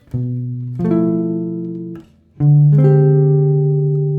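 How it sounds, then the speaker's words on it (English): Two sustained keyboard major seventh shell voicing chords played one after another, each struck cleanly and left to ring with a gentle decay, with no voices. "There's this little major seventh shell voicing"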